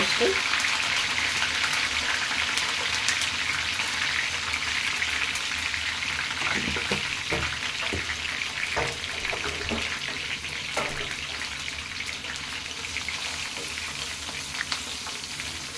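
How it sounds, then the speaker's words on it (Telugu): Tempering with curry leaves fries in hot oil for chicken gongura pickle, a loud, continuous close sizzle with scattered crackles and a few stirring clinks partway through. "చూడండి పోపు అయితే ఫ్రై అవుతుంది"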